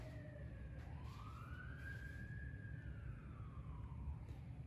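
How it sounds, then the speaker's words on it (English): Police car and fire ambulance sirens wail past in the distance, a rising and falling tone sweeping by faintly over low traffic rumble. "then there's a police that drives by, then you got a fire ambulance that drives by"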